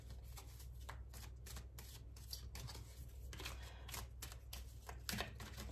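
Oracle cards shuffle by hand in quick, crisp riffles and slaps, close and quiet, with irregular bursts over a steady low hum.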